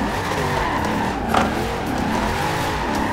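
A Chevrolet Camaro muscle car drift build in a racing video game, played on a Logitech G920 wheel, holds a steady loud engine drone with continuous tire squeal while sliding, briefly peaking midway.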